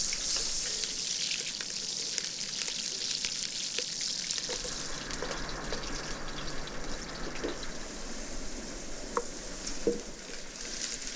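Salted eggplant slices fry in a pan with a steady, close sizzle and occasional crackles and pops that continue without a break.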